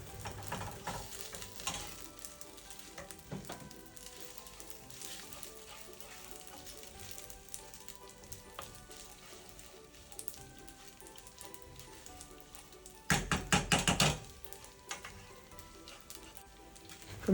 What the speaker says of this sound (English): I'm going to stir until well combined